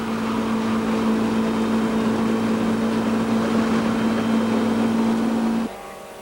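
A small 1300cc production race car runs at about 140 km/h at Kyalami, its engine a loud, steady, unbroken drone that drops away abruptly near the end.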